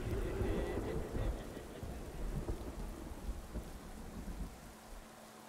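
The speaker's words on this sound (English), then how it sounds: "What's with all the rain?" Heavy rain pours steadily with deep rolling thunder rumbling underneath in a stormy scene from a Batman Arkham video game, the low rumble swelling and easing throughout.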